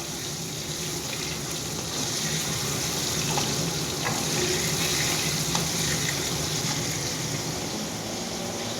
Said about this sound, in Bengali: চিমনি চলছে, চিমনির আওয়াজ